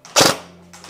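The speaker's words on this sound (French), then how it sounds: "Hop, on va se mettre en burst de 2 billes, c'est parti." Short burst of shots from a CZ Scorpion EVO 3 A1 airsoft replica set to three-round burst, a loud close crack cluster followed by a quieter trailing shot, with no talking.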